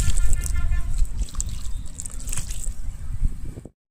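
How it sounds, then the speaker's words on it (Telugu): Water poured onto freshly planted pots on a terrace garden, a steady close trickle and splash for a few seconds before cutting off. "పెట్టిన ప్రతి చోట కొంచెం వాటర్ వేయాలి."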